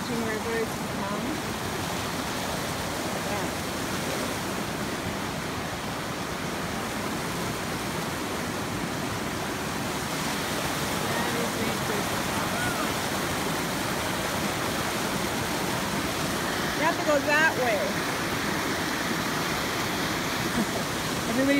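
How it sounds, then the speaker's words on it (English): A swollen mountain stream near Convict Lake, flooded over a washed-out hiking trail in July, roars in a dense, unbroken rush of water that stays loud and steady throughout, with no voices above it. "The raging rivers come."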